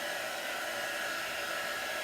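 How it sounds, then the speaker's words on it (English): A hair dryer blowing steadily on paste applied to a DIY Disney craft project, a constant, close whooshing hum with no break for its two seconds. "I might even hit this with the dryer a little bit to dry it a little bit faster."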